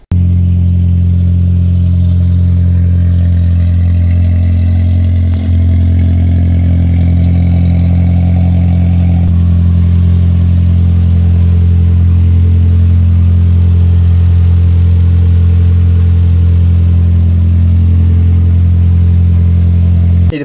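A junkyard race car's engine runs loud and close, holding a steady, heavy rumble with slight swells in revs throughout, no voices over it.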